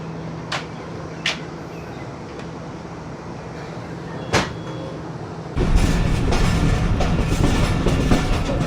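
The 39 Up passenger train lets out short sharp hisses of released air pressure, followed by a louder, sustained rush of escaping air over the low rumble of the stationary carriages.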